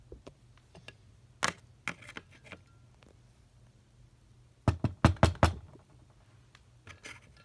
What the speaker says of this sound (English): who keeps on knocking on the door?